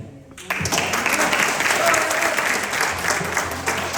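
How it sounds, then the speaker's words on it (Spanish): Spontaneous applause from the audience at a Bible debate, a dense wash of clapping that starts suddenly after a brief quiet moment and stays loud and steady to the end. "Aplausos espontáneos."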